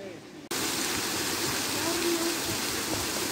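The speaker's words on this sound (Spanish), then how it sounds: "con esa preciosa cascada, sigue su camino libre, sin presencia humana." A river runs past a waterfall at a remote river beach, giving a steady, loud rush of water that starts abruptly and continues unbroken with no voices.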